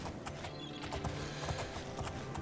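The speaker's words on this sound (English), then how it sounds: "Let's put our horses in here." Horse hooves clip-clopping in a video game, a quick regular run of sharp hoof knocks close by, faint and steady with no talk over it.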